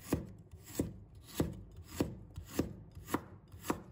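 A knife cuts peeled fresh ginger into thin slices on a cutting board, seven crisp, evenly spaced chops about two thirds of a second apart, close and quiet with no voices.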